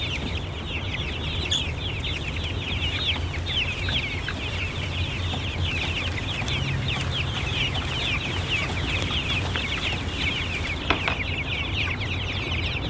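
Chickens in a chicken tractor on grass cluck steadily throughout, a busy flock close by with no talking over it.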